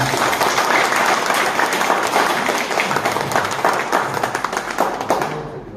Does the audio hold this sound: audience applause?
yes